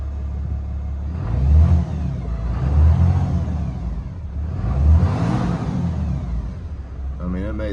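A 2021 Ram 2500 with a 6.7 Cummins diesel and an S&B cold air intake revs in three rising-and-falling pushes over a steady idle rumble, close and fairly loud, with a voice briefly speaking near the end.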